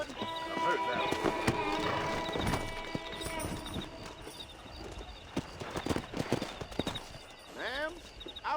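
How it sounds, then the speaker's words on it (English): Hooves clip-clop in an irregular rhythm alongside horse snorts and a whinny in the video game Red Dead Redemption, with people talking over the top. "let's see if we can't wrangle some horses"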